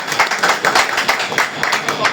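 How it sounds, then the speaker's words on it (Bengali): Clapping from the crowd at a volunteer organisation gathering, a dense burst of hand claps rising and falling steadily, fairly loud and close, with no voices over it. "ওনাদের জন্য একটা হাততালি হবে ইনশাআল্লাহ"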